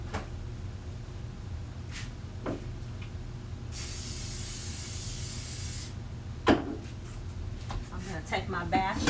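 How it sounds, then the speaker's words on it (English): A two-second burst of cooking oil spray onto food in an air fryer basket, a bright close hiss set between quiet kitchen sounds and a person speaking. "But I am going to spray it with my oil."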